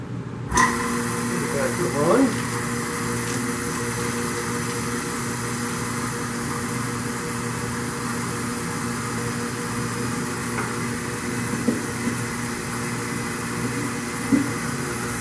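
A steady mechanical hum of a small vacuum frame pump running continuously while making photopolymer letterpress plates, with a few faint clicks and knocks scattered over the drone.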